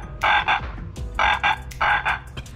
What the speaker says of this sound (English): and there are frogs here